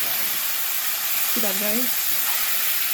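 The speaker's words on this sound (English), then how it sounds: "And now I'm going to add my shrimp." Shrimp cooking in caramelized butter with ginger in a pan, a steady loud sizzle and hiss throughout, with someone briefly talking over it.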